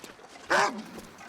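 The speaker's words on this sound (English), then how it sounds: "I actually jumped there when he barked." A single sharp dog-like bark from an animal in the survival video game The Long Dark, one short loud yelp rising out of quiet ambient game sound.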